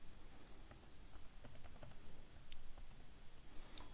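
Faint, scattered keystrokes on a computer keyboard as a password is entered, soft irregular taps over a hissy background with no talking.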